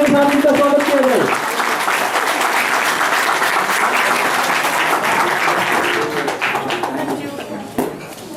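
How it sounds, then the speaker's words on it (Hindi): An audience applauds at the closing ceremony of a state under-12 girls' chess championship. The clapping is dense and sustained and comes from the whole room. A voice is audible at the start, and the applause thins out toward the end. "जोरदार तालियों के साथ इनका स्वागत किया जाए"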